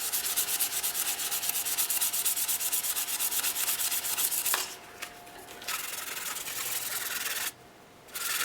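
Hand sanding runs lengthwise across a workpiece to take out radial scratches, a steady close rasping rub that pauses briefly twice near the end.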